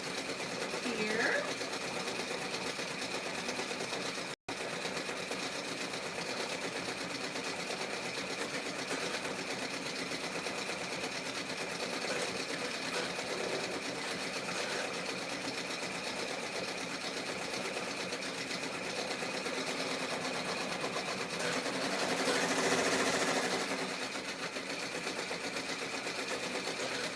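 A sewing machine runs steadily and continuously at close range, its hum and rapid stitching drone filling the scene with a brief break, while a person talks faintly over it.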